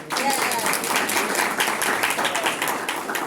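An audience at a holiday marketing strategies event during Oklahoma City MED Week breaks into sustained applause, a dense, even wash of many hands clapping throughout.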